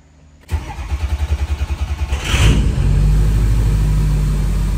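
A Harley-Davidson motorcycle engine cranks in a rapid loud chugging stutter, catches, then settles into a steady close idle rumble.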